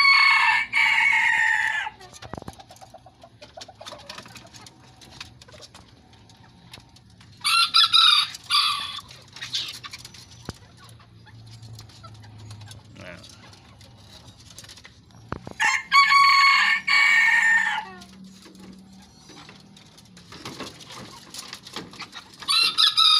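Bantam chickens cluck softly and a rooster crows loudly several times in close, separated bursts, with quieter clucking and rustling in between.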